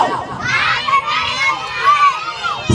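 A group of children shout together on command during a birthday party game, producing a loud, sustained, close-up burst of overlapping voices that barely breaks for the whole stretch.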